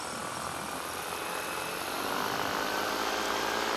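A paramotor engine runs in flight, a close, loud, steady buzzing drone that grows slightly louder halfway through as power increases, with wind rush and no speech.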